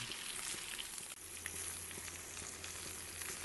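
Sous vide Scotch fillet steak sears in a hot pan, a loud, steady close-up sizzle and spitting crackle that holds throughout with brief dips as the meat is moved.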